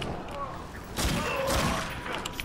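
Gunfire from a homing weapon in the video game Darkness 2, a short burst of muffled shots fired over a dense game soundscape.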